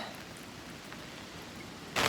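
Rain falls outside during a storm that is filling a water tank, a steady faint hiss throughout that swells a little louder in the final moment.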